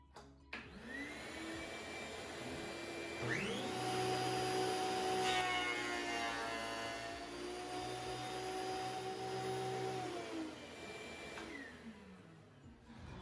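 A WEN 6552T 13-inch thickness planer takes another 1/32-inch pass on a wood board. The motor spins up into a loud, steady whine with a harsh broadband roar while the board feeds through for about eight seconds, then winds down. No one speaks.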